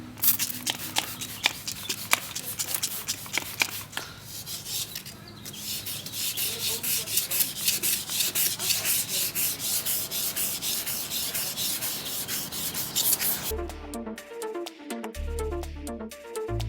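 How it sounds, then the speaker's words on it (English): A car headlight is wet sanded by hand with 400 grit sandpaper, producing steady rhythmic rubbing and scratching strokes at close range that run continuously, with a brief shift to other sounds near the end. "so now that we taped it off, we're going to start wet sanding"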